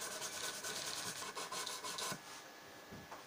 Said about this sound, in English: all you're doing is 600 grit and just taking off the deepest scratches from the file